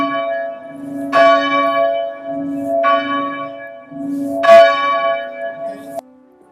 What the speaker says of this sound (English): we ring the bell every Sunday morning and for funerals